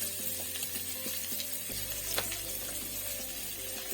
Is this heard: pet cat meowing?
no